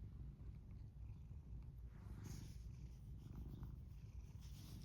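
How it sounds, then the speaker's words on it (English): A house cat purrs softly and continuously up close, a low rhythmic rumble with faint rustling in the quiet room. "Hope you can hear those purrs."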